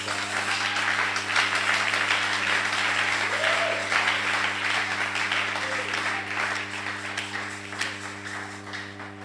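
A church congregation claps steadily through the whole stretch during a sermon, a dense, continuous round of applause with a faint steady hum underneath and a few voices calling out.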